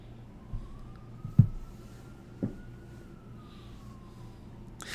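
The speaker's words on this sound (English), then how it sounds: "There were no sirens all day and all night, except for right now." A distant police siren wails in a slow, steady rise and fall, faint beneath background noise with a few scattered thumps nearby.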